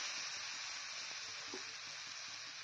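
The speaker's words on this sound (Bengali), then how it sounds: "এবার এখানে আমি দিয়ে দিব গরম জল।" Hot water going into a pan of fried spice paste for Katla fish curry gives a steady, close hiss and sizzle throughout, with a faint stir or clink in the middle.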